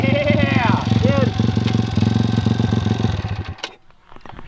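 A two-stroke dirt bike engine revs loud and close in a rising, buzzing pattern, then fades as it moves away, with voices talking over it.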